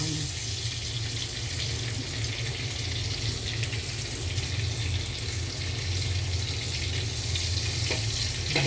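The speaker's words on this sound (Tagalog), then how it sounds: "Igisa na natin ang bawang." Garlic sautéing in a hot pan for cooking sponge gourd, a steady broadband sizzle and crackle running unbroken throughout at moderate level, with no talk over it.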